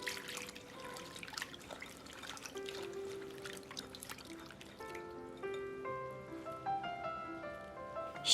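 Broccoli rubbed and swished by hand in a basin of cool water, giving gentle trickles and drips close up. Faint tonal sounds join in partway through.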